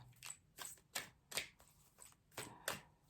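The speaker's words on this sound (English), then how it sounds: "Let's shuffle again." Tarot cards being shuffled, a quick series of about eight soft riffling flicks in an uneven rhythm, close and quiet.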